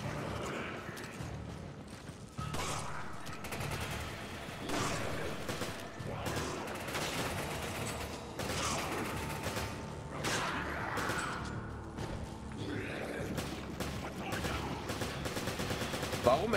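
Gunfire in Resident Evil 5, rapid bursts of shots and mechanical clatter from the game running continuously under a busy mix, with players talking over it.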